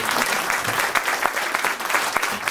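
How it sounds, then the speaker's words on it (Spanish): A brief burst of lively crowd clapping for a public security secretary at a Mexico City conference, dense and close, with a few individual claps cutting through. "Un fuerte aplauso para el secretario, por favor."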